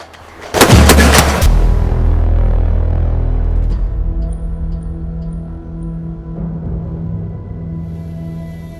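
An Armalite AR-180 rifle fired at an outdoor shooting range: a quick cluster of loud, sharp shots up close, then a long booming echo that fades away slowly, with no talk.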